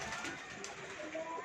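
A pigeon at a loft around five o'clock gives faint, low coos under a steady outdoor hiss, with a person talking nearby.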